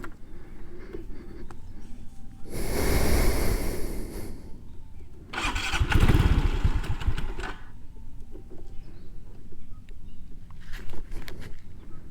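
A ten-year-old, little-used Aprilia SR 150 scooter is started, with two loud bursts of cranking and engine noise a couple of seconds apart, then a quieter idle with a few faint clicks.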